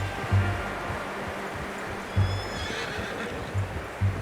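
Horses in the Red Dead Redemption 2 video game give several short, snorting neighs at a moderate distance, spaced irregularly over a soft ambient outdoor background.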